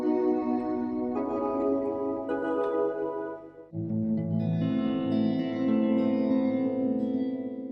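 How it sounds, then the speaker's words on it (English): A synth played on a Sonicware Smpltrek through its default Hall reverb: sustained chords that swell and blur into a long, washy tail, loud and alone. "the Hall reverb on this Sonicware Smpltrek"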